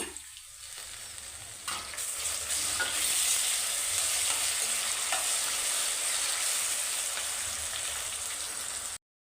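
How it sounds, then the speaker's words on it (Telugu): Fried gongura (sorrel) leaves go into a pan and sizzle and crackle in a steady hiss that rises after a quiet start and runs on under light stirring until it cuts off, with no voices. "ఇప్పుడు మనము ఆల్రెడీ వేయించి పెట్టుకున్న గోంగూర అయితే వేసుకుందాము"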